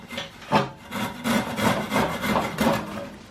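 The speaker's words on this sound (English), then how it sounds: "So we're cutting just a square out of the piece of wood so that it can go around the skirting board." A hand saw cutting a square notch out of a piece of wood, close rhythmic back-and-forth rasping strokes, about eight in a steady rhythm, with no talking.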